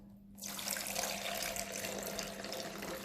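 Water pours steadily into a measuring jug, filling it toward 300 ml in a home maths lesson; a continuous close, full splashing stream starts after a brief quiet moment and runs on evenly.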